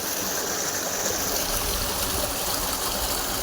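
Water gushes steadily from a pipe in a continuous, fairly loud rush, like a strong flow pouring out nearby, with no voices over it.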